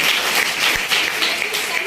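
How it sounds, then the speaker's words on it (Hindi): Schoolchildren in a classroom clap together in a steady, fairly loud burst for a classmate who has just answered at the board. "जोरदार ताली।"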